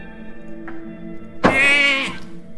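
Sheep bleat from a polymorph spell in the dungeon-crawler game Runestone Keeper, a single loud wavering cry lasting about a second over a quiet game soundtrack.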